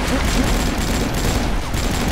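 Dense gunfire from the online shooter game AvatarStar, a steady rattling fusillade of rapid shots filling the whole clip at close range, with no clear talk over it.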